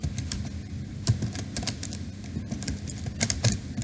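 Rapid, steady keystrokes on a computer keyboard while code is typed, a close and fairly loud run of clicks with brief pauses between bursts.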